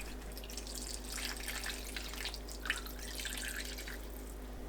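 Rice-rinsing water is poured into a cooking pot while making a braised mackerel dish, giving a soft, steady trickle and splash of liquid that runs for several seconds, fairly quiet and with no talking.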